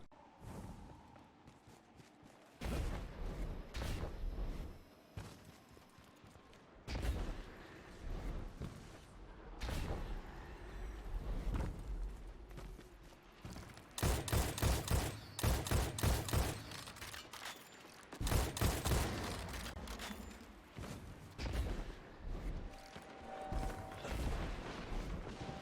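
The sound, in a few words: scout rifle gunfire, Patron of Lost Causes, Destiny 2 video game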